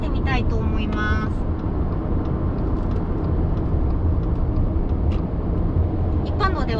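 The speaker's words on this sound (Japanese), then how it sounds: "高速に入ってきましたので、少しね高速走行もしてみたいと思います。" Steady broadband road and engine roar from a 2022 Subaru Forester Sport turbo cruising on a highway, loud and continuous throughout.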